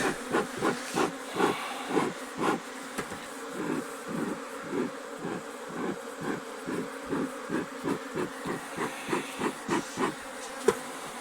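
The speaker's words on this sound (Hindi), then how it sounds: "मधुमक्खियाँ जो है छत्ता छोड़ नहीं रही है।" A freshly captured swarm of honeybees buzzes loudly and close around a hive, a dense continuous drone pulsing in a steady rhythm with no talk.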